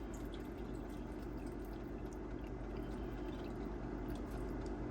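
Chicken broth is poured into a pot of chicken and dumplings, making a soft, steady trickle that is quiet and close with no talking over it.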